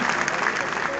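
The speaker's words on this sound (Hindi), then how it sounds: "जोरदार ताली बजा दो एक बार" An audience breaks into dense, loud applause, a continuous wash of many hands clapping at once.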